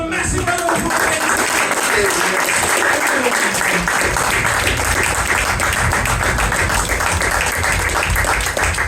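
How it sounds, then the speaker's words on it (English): Loud, continuous audience applause at a comedy hypnosis show at a fringe festival, dense clapping throughout with some voices mixed in. "just give them a massive round of applause"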